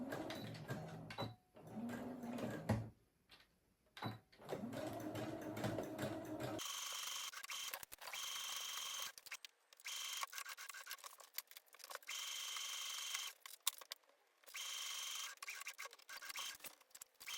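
Sewing machine stitching a bridesmaid dress mock-up, a steady mechanical whir in several bursts separated by short pauses, close and fairly quiet with no talking.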